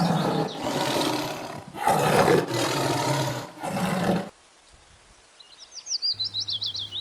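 A tiger roars in several loud, rough bursts up close, followed by a quiet gap and then faint bird chirps with a short rhythmic pulsing sound.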